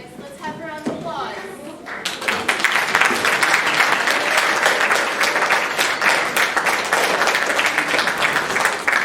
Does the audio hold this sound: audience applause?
yes